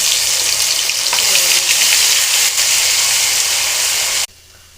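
Spice paste sizzling loudly in hot oil with bay leaf, cardamom, cinnamon, cloves and cumin, a dense steady frying hiss heard close up that cuts off abruptly near the end.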